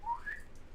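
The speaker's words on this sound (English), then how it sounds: "Where's my slide whistle?" A slide whistle gives a quick, faint rising glide, thin and airy, lasting well under a second against low background noise.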